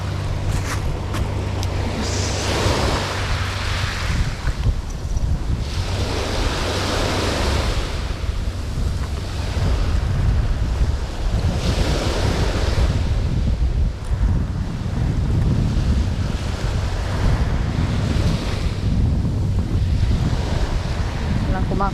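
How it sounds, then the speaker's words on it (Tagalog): Big ocean waves surge and crash in repeated swells along the shore, layered with steady wind buffeting the microphone, loud and continuous for the whole stretch. "Alanganin yung mga katangay, malaki ang alon."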